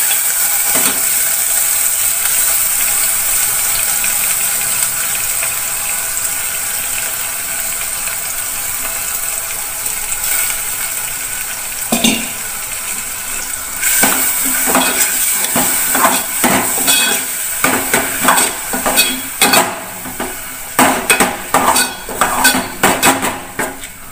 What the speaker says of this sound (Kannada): ಈ ಹೆಸರು ಬೇಳೆ ಚೆನ್ನಾಗಿ ನಾನು ತುಪ್ಪದಲ್ಲಿ ಫ್ರೈ ಮಾಡಿ ಬೇಯೋದಕ್ಕೆ ಹಾಕಿದ್ದೀನಿ